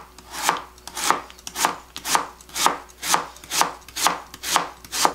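A knife chops radish into fine julienne strips on a cutting board in about ten steady, evenly spaced rhythmic bursts of thunking strokes, close and clear, with no voices.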